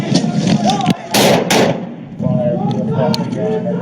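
Gunshots fired during a police standoff with a man pointing a rifle at officers: several loud, sharp broadband cracks close together, mixed with shouting voices and commotion.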